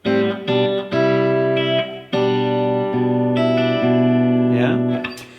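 An electric guitar plays the opening bars of a riff, picked with thumb, middle and index fingers. Sustained chords ring loud and close with effects, and each one gives way to the next in a slow sequence.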